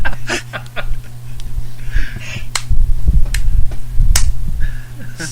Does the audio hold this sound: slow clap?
yes